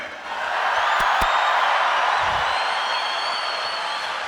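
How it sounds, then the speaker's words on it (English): A crowd of about 10,000 fills the arena at the 2016 World Deadlift Championships with a loud, sustained roar of cheering that holds steady throughout. "The largest weightlifting crowd ever."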